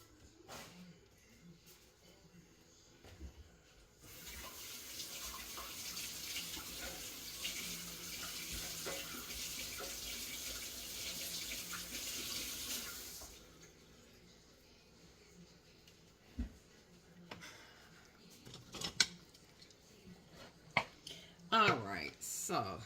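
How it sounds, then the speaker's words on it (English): Tap water runs steadily at a kitchen sink while hands are washed during dinner prep, a broad hiss lasting several seconds before cutting off, followed by scattered clinks and light handling noises. "let me wash my hands"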